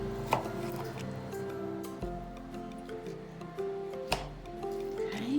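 Strawberries are chopped on a cutting board, a few scattered knife taps and soft squishy cuts close by, faint against a steady background hum, with one brief spoken word.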